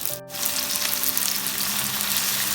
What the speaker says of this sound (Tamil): நெக்ஸ்ட்டு பேனில் கொஞ்சம் ஆயில் ஆட் பண்ணி இந்த சாப் பண்ணி வச்சுருந்த வெங்காயத்தை ஆட் பண்ணிக்கோங்க.